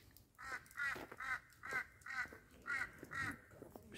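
Birds call outside Chail Palace in Shimla: a rhythmic series of about eight harsh, nasal calls, fairly faint and at a distance.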